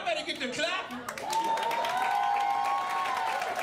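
An audience at a Washington DC jazz, soul and R&B venue applauds during a Black History Month kickoff, with clapping and some cheering rising beneath a voice at the start and a sustained tone running through the crowd noise.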